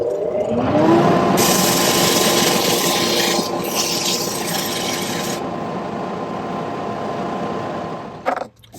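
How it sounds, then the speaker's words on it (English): Wooden dead blow mallet sanded while spinning on a lathe: a loud, steady abrasive rasp over the motor's hum, continuous for several seconds before the lathe winds down near the end. "it's going to get a sanding to finish it off"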